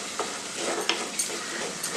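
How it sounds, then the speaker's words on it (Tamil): Tomatoes sautéing in a pan with asafoetida for pepper rasam, giving a steady close sizzle with brief stirring scrapes and clinks. "அந்த தக்காளி வாசனைலாம் நல்லா பச்சை வாசனை போகிற அளவுக்கு நல்லா நம்ம வதக்கிடுவோம்"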